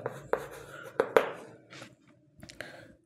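Pen or pencil writing on paper while working a class 5 maths problem, with scattered scratchy strokes and taps, close and fairly quiet, in uneven bursts with pauses between.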